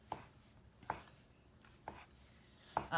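A knife cuts through a baked cheesy turkey sausage quiche on a board, with four soft, evenly spaced chopping taps, close and fairly quiet, no voices.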